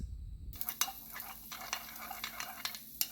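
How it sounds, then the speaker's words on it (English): Tempeh frying in a pan with blueberry jam and tahini dipping sauce being prepared, a soft steady sizzle broken by scattered clicks and scrapes of a utensil stirring, fairly quiet and close. "While your tempeh is cooking"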